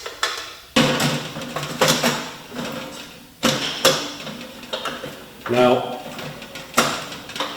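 A metal pellet-stove adapter being fitted onto a Hottent camping tent stove, with a series of sharp metallic clanks and scraping knocks at irregular intervals, close up, while someone talks.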